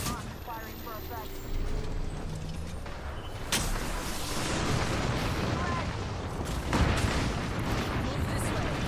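Artillery bombardment ability in a console video game's ranked match: deep booming impacts land around the midpoint and again near the end over a steady rumbling battlefield bed, with voices talking throughout.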